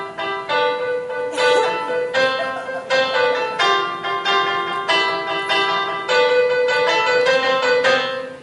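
A short piano piece played by someone with little experience at the keys, heard as a sequence of ringing struck notes and chords in an uneven rhythm, clear and close, with no talking over it.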